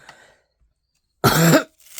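A single harsh cough with throat clearing, close and loud, bursting out after a near-silent pause, brief room sounds before and after.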